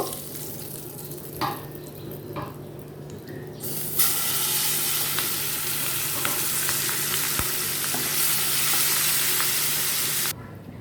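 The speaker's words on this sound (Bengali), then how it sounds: "সবগুলো মাছ ভেজে নিব" Hilsa fish frying in hot oil: after a few soft clinks, a loud, steady crackling sizzle sets in and holds for several seconds before cutting off abruptly.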